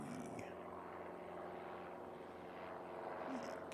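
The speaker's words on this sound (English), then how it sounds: "Kiwi aircraft." A distant aircraft drones overhead, a faint steady engine hum with a slowly shifting pitch heard from the ground near Christchurch Airport.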